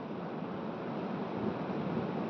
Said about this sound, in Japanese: 雨がね、風で飛んできて涼しくなりましたけどね